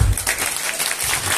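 Crowd applause at the opening of an intercollegiate college fest in Mumbai, loud and fairly dense, with a brief swell at the start, then clapping surging in uneven waves.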